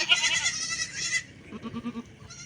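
A young goat kid bleats several times in a row, fairly close, with a longer high cry followed by shorter, lower calls, and no talking.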